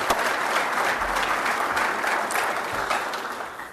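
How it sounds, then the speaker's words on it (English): Steady round of applause from a conference audience at a trade show event, dense and sustained throughout at close range, with no speech over it. "Let's give them a round of applause."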